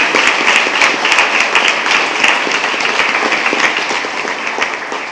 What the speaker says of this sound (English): they each deserve one more round of applause for all of our amazing students